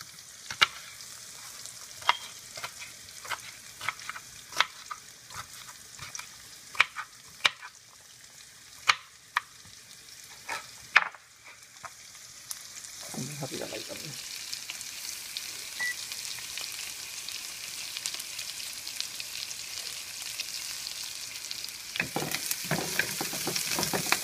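Chopped onion and bell pepper frying in a pan, a steady close sizzle with scattered clicks from a utensil, the hiss growing louder and fuller partway through, no speech.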